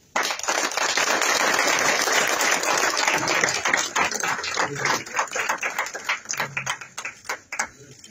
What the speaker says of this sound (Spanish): Que se oiga más fuerte el aplauso para todos los que ya fueron operados